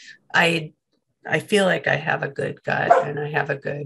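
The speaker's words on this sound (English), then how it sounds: "sorry for the dogs" Dogs bark and yip in the background during an online policy symposium, short barks mixed under a person's continuous talking.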